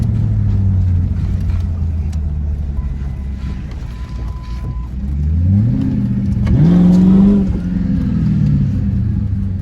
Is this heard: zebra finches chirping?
no